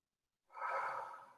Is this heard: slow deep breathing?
yes